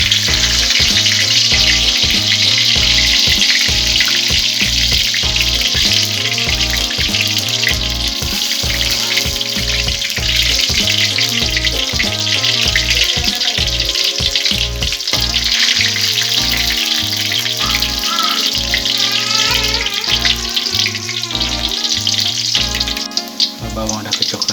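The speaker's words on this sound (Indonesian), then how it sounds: "kalau minyak sudah panas, kita masukkan bawang" Onions sizzle in hot cooking oil while a Tumis Daun Genjer stir-fry is made, a loud steady frying hiss under a strong rhythmic music track that runs throughout.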